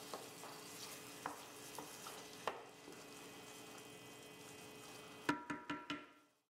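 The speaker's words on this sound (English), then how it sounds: "Stir the Kalamata olives to combine." A spoon stirring Kalamata olives into spaghetti squash gives soft scraping and a few light clicks, then a quick run of four or five sharper taps against the dish before it falls silent, with no talking.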